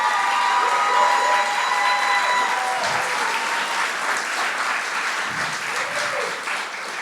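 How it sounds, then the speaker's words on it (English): Sustained audience applause with some cheering fills a poetry showcase hall after a performer's set, steady and dense throughout before tapering slightly near the end. "Y'all give it up one more time for Nara."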